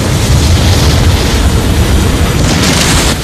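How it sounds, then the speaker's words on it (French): A loud, sustained roaring blast from a Beyblade special attack in the animated film fills the whole moment without any voices. "Explosion dévastatrice de Lyon!"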